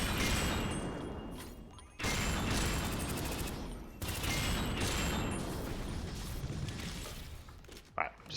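In the video game SYNTHETIK 2, gunfire erupts in dense, loud sustained bursts that break off briefly around two-second intervals, with a faint sharp clatter near the end.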